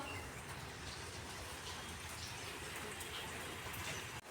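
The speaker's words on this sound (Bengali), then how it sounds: "এখন বৃষ্টিটা অনেকটাই কম হয়েছে" Light rain falling steadily after a heavy downpour on a rural homestead, a soft, even patter of drops heard close by and unbroken throughout, with no talk.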